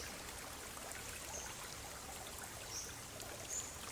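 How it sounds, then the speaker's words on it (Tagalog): A steady wash of flowing water, like a river running nearby, continuous and even with no voices. "Ayan guys, nandito na tayo sa ilog."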